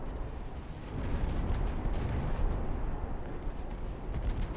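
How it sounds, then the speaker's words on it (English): Naval shells striking a ship in the warship battle game Ultimate Admiral: Dreadnoughts, dense rumbling booms and bursts rolling together in a continuous heavy barrage, no clear talk. "Those definitely look like those shells are hitting my ship."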